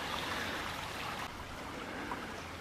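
The Uchte, a small stream, flows in a steady, soft, continuous rush and trickle, faint and close by with no other sound.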